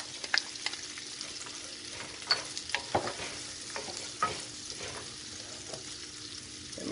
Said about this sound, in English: we don't even have to wait for the butter to melt all the way. We're going to add our onions.